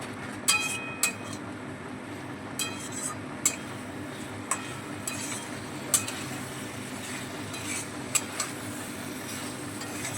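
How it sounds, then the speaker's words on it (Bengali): Fried potatoes being stir-fried with spices for a vegetarian aloo dum, with steady pan noise and scattered metallic clinks of a spatula against the pot, moderately close, no talking. "আলুর সঙ্গে মশলাটা আবারও একটু কষিয়ে নেব"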